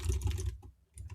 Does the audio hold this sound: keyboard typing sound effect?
yes